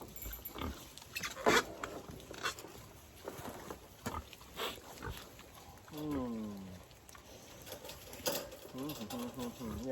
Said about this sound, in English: Now I'll have to come out around the bucket like this to keep the pigs off of it.